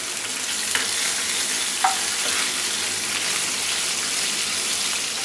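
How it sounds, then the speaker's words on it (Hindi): Onion and capsicum fry in a pan for chilli potato, giving a steady, even sizzle with a couple of faint clinks. No one speaks. "अब मैं इसमें प्याज और ये शिमला मिर्चा डाल दूंगी।"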